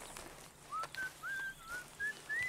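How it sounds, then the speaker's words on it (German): A butcher whistles a cheerful tune in the Red Dead Redemption 2 video game, a string of short rising whistled notes with small gaps, fairly soft against quiet town ambience, no talking. "Dann ist es hier vorne der Metzger, der hier fröhlich sein Lied pfeift"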